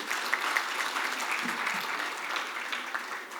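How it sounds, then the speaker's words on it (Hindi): Loud, sustained audience applause welcoming the minister at the Atal Mithila Samman 2019 event, a dense steady clatter of many hands clapping throughout with no pause. "मंत्री जी के लिए जोरदार ताली से स्वागत करें"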